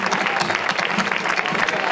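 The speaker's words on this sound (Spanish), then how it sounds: "Un aplauso para Miguel Bonito" Applause for a speaker at a sports awards gala in a hall, a dense, steady clapping from the audience with some crowd murmur underneath.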